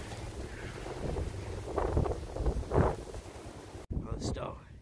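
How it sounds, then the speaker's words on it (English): Gusty wind buffets the microphone in rough bursts during snowfall, with a short voice heard near the end. "It's getting really windy."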